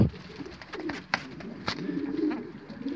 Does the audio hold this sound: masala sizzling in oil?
no